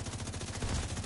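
Automatic gunfire in The Division 2, a steady rapid rattle of shots with strong low-end thump, continuous and loud across the moment.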